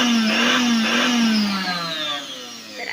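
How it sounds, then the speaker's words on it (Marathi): A freshly cleaned kitchen mixer grinder runs at home, its motor whining loud and close with a steady high-pitched hum that wavers slightly, then winds down toward the end. "तुम्हाला मी आता मिक्सर चालू करून दाखवते"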